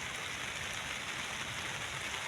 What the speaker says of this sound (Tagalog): Ngayon ulan na naman.